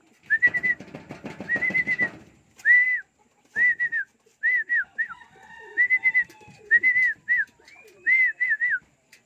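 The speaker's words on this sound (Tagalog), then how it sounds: "Yan mga kalapatid, maraming nag-uwian." Racing pigeons return home to a loft: a burst of fluttering wings at the start, then a string of short, clear, high whistled calls in rhythmic pairs and triplets, close and fairly loud over a quiet background.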